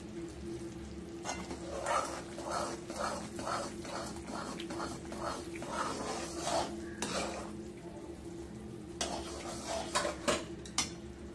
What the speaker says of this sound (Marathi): तर आता आपण याच्यामध्ये लाह्या मिक्स करायच्या